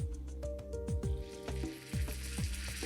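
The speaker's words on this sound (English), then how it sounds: "You want that sizzle." Meat sizzles loudly in a hot pan, a dense continuous frying hiss with crackling pops, overlapping clinks and scraping of utensils throughout.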